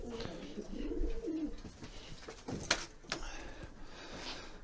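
A pigeon of a rarer coloured racing breed coos in a shed with soft, low, rolling calls, close by, followed by rustling and handling noises.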